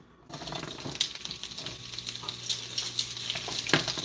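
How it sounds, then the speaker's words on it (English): Chilies toasting in hot oil for enchiladas crackle and sizzle at close range, with stirring scrapes and small pops over a steady frying hiss. No one speaks. "It's sizzling."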